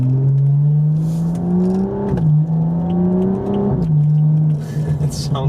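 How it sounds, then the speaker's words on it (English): A BMW 435i with a ZF8 automatic transmission and enhanced burbles accelerates through gear shifts while still warming up. It gives a loud, close engine drone that climbs in pitch, drops at each shift and pops briefly. "like that little blurp that the ZF8 makes. The burbles are enhanced quite a bit."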